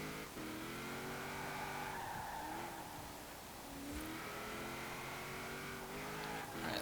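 A 1970 Triumph TR6 PI driven in Forza Horizon 4 gives a loud, steady engine drone whose pitch rises and falls with gear changes, with brief tyre squeal and skidding and no one talking.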